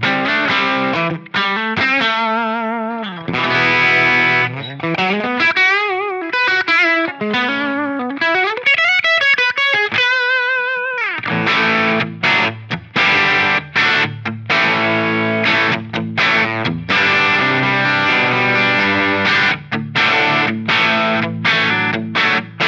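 Electric guitar on the bridge pickup through a Line 6 Helix modelling a Mesa/Boogie Cali IV amp, with loud distorted riffs, bends and slides, then a tight, rhythmic chugging section, played alone without talk.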